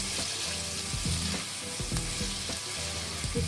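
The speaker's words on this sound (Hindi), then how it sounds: "आलू हमने इसमें फ्राई करने हैं" Potatoes fry in oil in a pan for spicy dhaba-style aloo gobhi, giving a loud, dense, steady sizzle with low bubbling and occasional stirring, heard up close.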